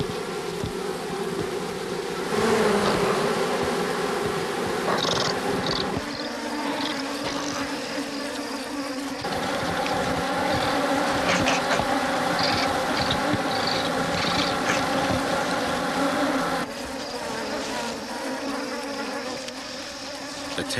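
A swarm of bees buzzes loud and dense around a hive being raided by a honey badger. The drone is continuous and close, with shifting pitch as individual insects pass near.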